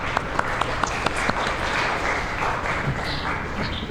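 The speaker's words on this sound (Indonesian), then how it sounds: "Beri tepuk tangan untuk Umam." A university chemical engineering class applauding a student, Umam, with a few sharp individual claps at the start merging into steady, moderate clapping from a small group in a room.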